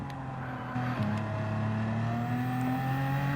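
A BMW M4 Gr.4 race car in Gran Turismo 7 at Interlagos howls at full throttle, its engine note climbing steadily, dipping at a shift and rising again, loud and close.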